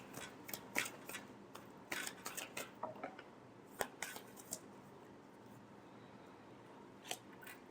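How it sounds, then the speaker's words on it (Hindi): Tarot cards being shuffled by hand in a quiet room, a string of soft, quick riffling and slapping bursts in the first half, then a few isolated taps. "last shuffle"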